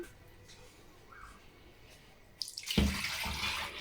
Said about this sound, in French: Je vais rajouter encore 1 litre, 1 litre d'eau.